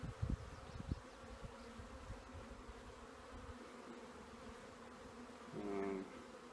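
Honey bees swarming over a hive frame, a soft, continuous buzzing hum with a few brief closer passes and light handling knocks, faint and without talk.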